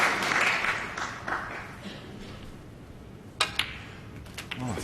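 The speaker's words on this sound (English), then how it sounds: "The applause tell you that the crowd know that was frame" Applause breaks out from a snooker crowd at the UK Championship, O'Sullivan versus Selby, at the end of a frame, a steady patter of clapping that fades, with a commentator talking over it.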